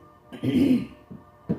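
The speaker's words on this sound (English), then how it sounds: "I have to clear my throat" A short, throaty rasp of someone clearing their throat, followed a moment later by a brief second grunt, close and fairly loud.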